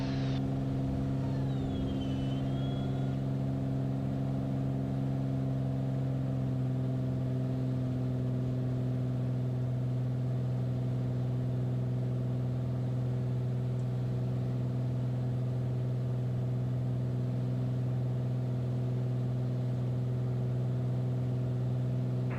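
Steady, loud drone of a Bonanza single-engine plane's engine at takeoff power, heard from inside as a continuous humming roar that stays constant throughout, with no talking.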